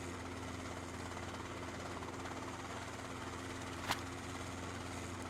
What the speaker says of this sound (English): So we know there's a helicopter above us.